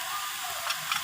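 Spinach, bottle gourd greens and peas sizzle in a pan as they are sautéed, giving a steady close hiss with faint stirring taps.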